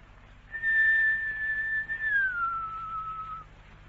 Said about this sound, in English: I will whistle for him.